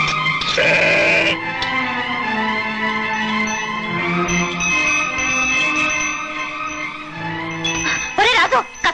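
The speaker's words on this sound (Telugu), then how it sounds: "ఒరే రాజు, కసాయి వాళ్ళు అక్కడ నీ గొర్రెలు కోసేస్తున్నారా?" Sheep bleat loudly and close by, a long quavering cry at the start and another wavering burst near the end, with quieter animal sounds and some voices between.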